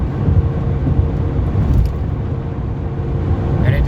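Car driving along the I-75 highway in Michigan, a steady loud low rumble of engine and road noise heard from inside the vehicle, continuous with no talking.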